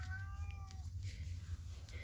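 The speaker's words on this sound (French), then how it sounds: "Si vous entendez des miaulements, c'est mon chat." An indoor house cat gives a short, faint meow early on, with a rising-then-falling tone over a low steady hum and quiet background noise.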